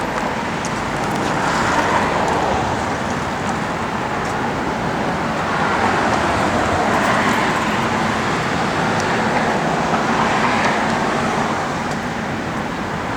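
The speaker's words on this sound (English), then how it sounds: "Flowmaster dual exhaust." A 1964 Ford Falcon Futura engine with Flowmaster dual exhaust gives a steady, broad low rumble with gently swelling waves, sounding like continuous driving noise heard from nearby.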